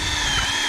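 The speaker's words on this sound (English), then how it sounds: "Drill through them all." A power drill whines steadily at close range while boring holes in metal canisters, a brief continuous high buzz with no voices.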